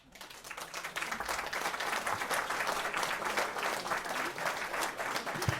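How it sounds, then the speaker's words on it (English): A canned applause sound effect played from a podcast button: crowd clapping that rises in after a brief quiet start and continues as a full, steady wash without talk. "That's my applause button."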